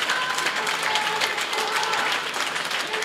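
A packed powerlifting championship crowd applauds and cheers a 400 kg world record attempt, dense sustained clapping filling the hall without letup.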